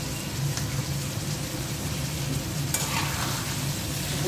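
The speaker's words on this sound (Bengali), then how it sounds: "দিয়ে দিচ্ছি লবণ, 5 ফোড়ন, আদা রসুন বাটা।" Vegetable pickle with rooftop-garden chilies is stirred in a pan with salt, five-spice and ginger-garlic paste, giving a steady, close sizzle with soft scraping throughout.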